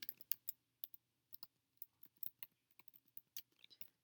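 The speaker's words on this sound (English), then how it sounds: "I'm going to go ahead and type in here." Typing on a computer keyboard: quiet, close clicks of individual keystrokes in short irregular runs and pauses, alone with no talk.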